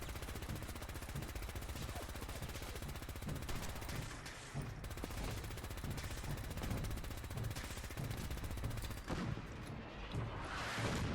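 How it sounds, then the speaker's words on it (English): Artillery fire in Fallout 4 as rapid, dense volleys of gunfire and explosions, continuous and loud with brief lulls around the middle and near the end. "the artillery's still coming"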